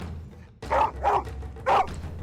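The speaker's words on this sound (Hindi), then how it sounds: "वह कुत्ता वहाँ से नहीं जाता है और भौंकता ही रहता है।" A cartoon dog barks three times in quick succession, loud and close, the sharp yaps rising from a quiet start over a low steady hum.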